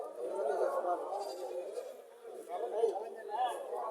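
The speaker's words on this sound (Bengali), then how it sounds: "কুমিল্লার মধ্যে সর্ববৃহৎ ছাগলের হাট মিশনি বাজার" Goats bleat at a large weekly goat market in Comilla, Bangladesh. Wavering bleats rise and fall amid a murmur of human voices and crowd noise, moderately close.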